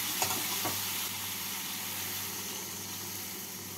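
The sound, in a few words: water added to frying spice paste and stirred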